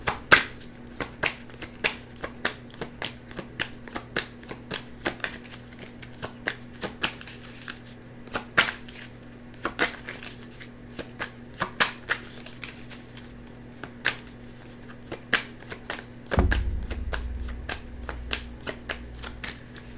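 A deck of tarot cards is shuffled in quick repeated riffling bursts, crisp close-up card slaps and flutters continuing steadily, ending in a louder rustle as the oversized deck is pushed back together.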